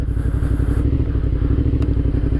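A motorcycle engine idles and revs unevenly with throttle blips during slow maneuvers, a close, steady, loud chugging rumble with faint clatter.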